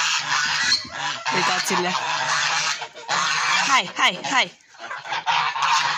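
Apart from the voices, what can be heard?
geese honking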